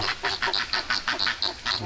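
Ducks quack in rapid, overlapping bursts, a noisy squabble of harsh calls repeating in quick succession close by.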